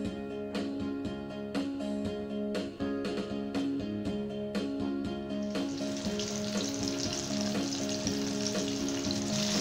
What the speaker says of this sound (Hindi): चिकन को फ्राई करने के लिए ऑयल को मीडियम गरम कर लिया है